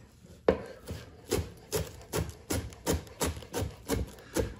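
A knife chopping fresh parsley on a cutting board, about a dozen steady, evenly spaced thuds close by, quiet and alone.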